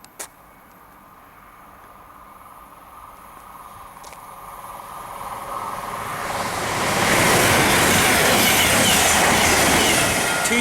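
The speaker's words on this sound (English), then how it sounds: "Next train to pass, the 13:12 Virgin train service from London Euston from Chester." A Virgin passenger train from London Euston passes through Cheddington station. A faint rumble swells into a loud, roaring rush of wheels and air that holds steady at the end, with no voices.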